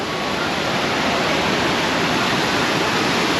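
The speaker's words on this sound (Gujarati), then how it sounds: "તો ફાઇનલી પૂગી ગયા છે ધોધે" Jamjir waterfall roaring in a steady, dense wash of falling water, loud and continuous without a break.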